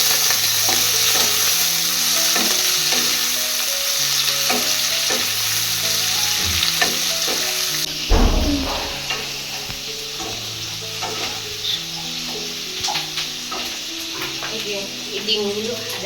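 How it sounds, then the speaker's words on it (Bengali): An egg omelette fries in a pan, giving a steady sizzle that runs through the whole stretch beneath continuous background music, with occasional stirring or scraping touches. "এই যে ডিমের অমলেটটা করে নিচ্ছে"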